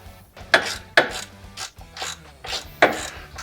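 Several sharp ratcheting bursts from a hand ratchet tightening the intercooler mounting bolts on a 7.3 Powerstroke truck fitted with a 6.0 intercooler, each quick run of clicks separated by short pauses.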